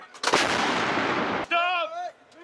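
Artillery fire during the Rolling Thunder military exercise at Fort Bragg, North Carolina: a single loud, close blast with a long rumbling decay, followed by a brief shouted voice.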